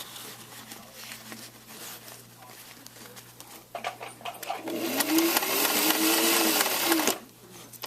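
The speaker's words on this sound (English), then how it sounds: "So we can stitch right past it without messing up the stitches." A sewing machine runs in short bursts, then settles into a longer, louder steady whir as it stitches along past an exposed zipper, close up with faint background hum.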